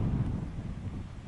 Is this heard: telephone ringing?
no